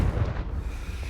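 The Confringo spell explodes in Hogwarts Legacy with a deep, booming blast that hits hard at once, then rolls off into a low rumbling decay, with no voices.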